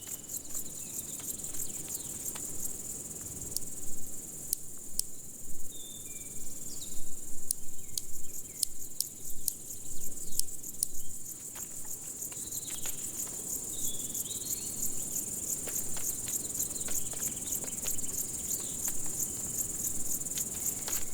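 Marsh grasshoppers chirping in a wet peat bog, a steady high insect buzz continuing throughout with scattered faint clicks and soft rustling, fairly quiet and without any voices.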